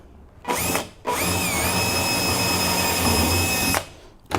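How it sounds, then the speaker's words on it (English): Power drill boring into a wooden stair string while assembling a winder staircase, a short burst followed by a sustained steady whine of about three seconds, close and loud with no talk. "And so I'm going to drill"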